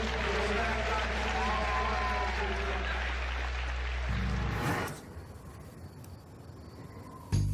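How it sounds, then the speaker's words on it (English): Audience applause and cheering at a Ultimate Fighter event, a dense, loud burst with a low rumble of crowd noise that cuts off abruptly midway, leaving quieter room sound and a brief thump near the end. "With a massive round of applause."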